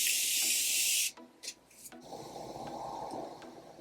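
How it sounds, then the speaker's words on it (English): A loud burst of Morphe Prep and Set setting spray hisses for about a second, followed by a few soft clicks and handling noises, then a quieter background rustle. "I'm gonna spray my face with the Morphe Prep and Set setting spray."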